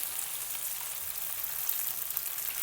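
Chicken-filled Algerian bourek sizzles steadily in a pan of hot oil, a dense, even crackle with fine spitting pops held at a constant moderate level and no voices.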